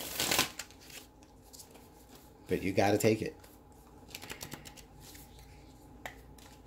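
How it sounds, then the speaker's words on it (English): A deck of tarot cards is shuffled by hand in repeated crisp riffling bursts, close and fairly quiet, with a person talking between and over the shuffles. "I've been shuffling this deck to death"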